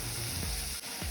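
Onions and tomatoes fry in a pan for a bitter gourd gravy, giving a steady close sizzle with a couple of soft stirring scrapes, no talk.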